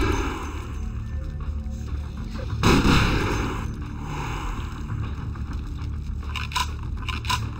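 Gunshots in Vampire: The Masquerade, two sharp, fairly loud blasts with a rough echoing tail, the first around the middle and a second quicker burst near the end, over a low steady background drone.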